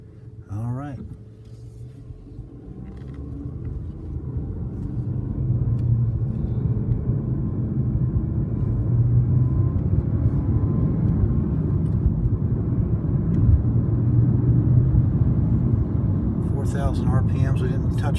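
A 2019 Jeep Renegade with a 1.3 L turbo engine pulls away on a drive around the block, its low engine and road rumble rising steadily and then holding a constant drone inside the cabin, while people talk briefly at the start and end.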